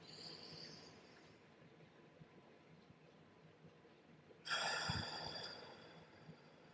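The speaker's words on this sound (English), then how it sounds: "Connect with your breath. Breathe in really long." A single long, deep breath drawn in during a calm guided meditation, heard as a soft airy rush that swells partway through and then slowly fades.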